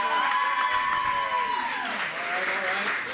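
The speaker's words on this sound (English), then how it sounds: "Let's hear some applause." Applause from a live music audience at a distillery venue, a dense wash of clapping with a few cheers, sustained and fairly loud, with a voice singing or calling over it.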